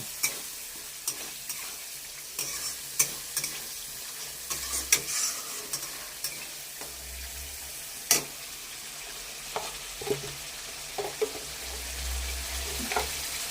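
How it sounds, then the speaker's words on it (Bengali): Spiced masala with tomatoes frying in a pan for a cauliflower and paneer curry, a soft steady sizzle broken by repeated scraping stirs of a spoon. "মশলাটা এখন ভালো করে ভাজবো, কষিয়ে নিব।"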